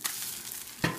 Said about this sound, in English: And I'm just stirring it around a little bit.